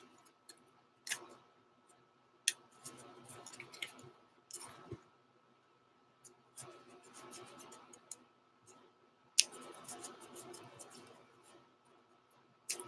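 Playing cards for the History Maker Baseball tabletop game are shuffled in quick riffling bursts with soft clicks and scratchy flutters, starting and stopping irregularly.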